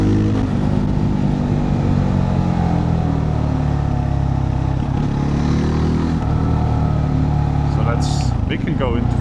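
Kove 450 Rally motorcycle engine pulling steadily in fifth gear while riding downhill, a continuous loud mid-pitched drone with a brief wind buffet near the end.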